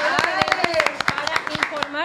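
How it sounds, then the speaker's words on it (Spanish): An audience claps for a guest on a Dominican youth programme, a run of sharp, fairly close individual claps with a voice speaking over them. "Un fuerte aplauso para él."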